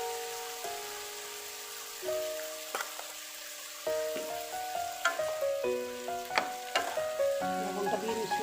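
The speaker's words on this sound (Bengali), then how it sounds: "সব সবজিগুলো একবারে দিয়ে দেবো। দিয়ে ভালো করে নেড়ে চেড়ে নেবো।" Chopped vegetables, water spinach stalks among them, hit hot oil in a pan and are stirred, giving a quiet sizzle with repeated scraping knocks and spatula clatter.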